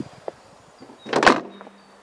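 A camper van's sliding door, on a VW Caddy Alltrack, rolls along its track and thuds shut, a single close clunk after some faint shuffling.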